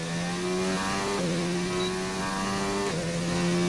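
A McLaren Formula 1 car engine in the F1 2019 video game, revving hard and shifting through gears with sharp pitch drops between high, sustained wails, loud and close.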